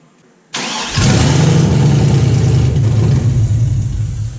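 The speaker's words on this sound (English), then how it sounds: "LS starting, take 1 of 35." An LS6 V8 fitted to a car cranks briefly and then catches, settling into a loud, rough, steady idle with a slight rev that holds close to the microphone.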